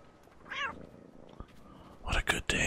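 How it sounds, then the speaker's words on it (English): A cat meows once in Assassin's Creed Rogue Remastered, a short rising-falling cry heard clearly near the start, followed later by louder bursts of other game or room sound. "Oh my god, a cat."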